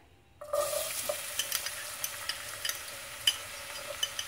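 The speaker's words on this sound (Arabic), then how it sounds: "راح احمس البصل اول شي" Onion dropped into hot oil in a cooking pot for rice, bursting into a soft sizzle that keeps crackling quietly, dotted with small pops and spoon scrapes as it sautés.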